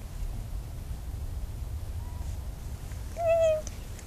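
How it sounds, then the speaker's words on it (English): A male cat waits behind a door and meows once, a short clear meow near the end after a faint earlier call, over a quiet indoor background. "He's meowing."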